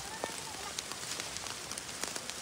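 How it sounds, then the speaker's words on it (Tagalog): Heavy rain falls on a mountain as a dense, steady hiss of downpour, with scattered sharper drops and pattering throughout. "Habang malakas ang ulan."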